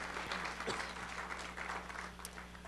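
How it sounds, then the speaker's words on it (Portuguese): A church congregation applauds, a faint, distant wash of clapping over a steady low hum, with a few louder individual claps. "Levante as mãos, aplauda o Senhor"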